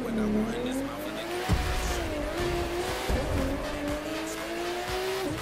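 Video game car drifting in The Crew 2, with a steady engine whine rising and falling as tires squeal continuously through the slide, loud and close over the whole stretch.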